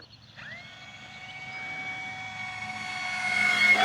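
An E-flite F4U-4 Corsair V2 1.2 m electric RC warbird flies at about 40% throttle, its steady whining motor and propeller tone rising slowly in pitch and loudness as it climbs alone in open air.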